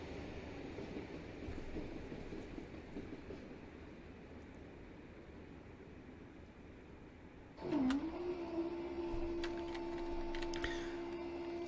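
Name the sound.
level crossing gates bouncing in Train Simulator 2021 video game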